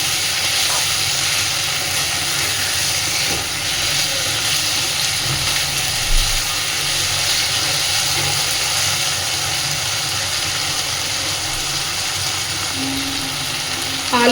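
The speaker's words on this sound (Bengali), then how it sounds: "আলু চিংড়ি মাছ সবই বেশ সুন্দর ভাজা হয়ে এসেছে" Potatoes and prawns frying in a pan, a loud, continuous hissing sizzle that holds steady with little change, heard close with no talking.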